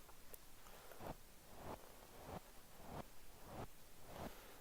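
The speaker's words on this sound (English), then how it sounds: "First of all, I used this white noise." A white noise effect in FL Studio 12, a broadband hiss, fairly quiet and steady, with rhythmic sidechain swells every half second or so as if pumped in time.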